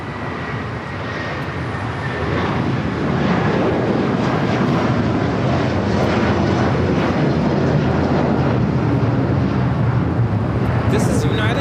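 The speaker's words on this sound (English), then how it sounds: "This is United Airlines 1069 taking off to Chicago on the 757-300." A United Airlines Boeing 757-300 takes off from LAX bound for Chicago, a loud, continuous jet roar building early and holding steady, close and dominant, with a voice talking over it.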